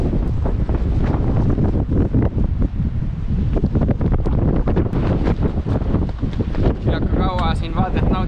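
Strong wind on a wet, cold Estonian sea coast buffets the microphone with constant loud roaring gusts and rumble. Surf is faintly mixed in beneath the blasts, and no clear voice stands out.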